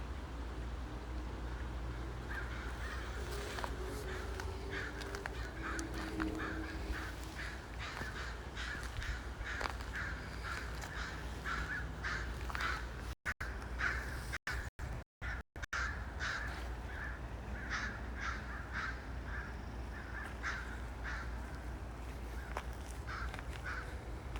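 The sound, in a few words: crows cawing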